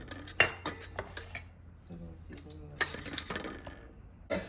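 Grated garlic, paprika and herb butter are mixed in a bowl, with a utensil clinking and scraping against it in scattered, close strokes and short pauses.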